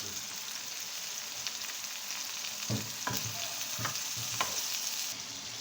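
Onion and tomato masala fries in a pan, a steady close sizzle broken by several spatula scrapes and taps as it is stirred.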